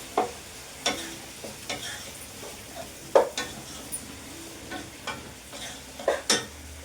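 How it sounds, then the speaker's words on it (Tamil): Green chilies, tomato, mint and coriander fry for chicken biryani with a soft sizzle, broken by regular scraping knocks of a spoon stirring the pan every second or so. "இந்த டைமில் நம்ம இந்த பச்சை மிளகா இந்த தக்காளியை சேர்த்துக்கலாங்க."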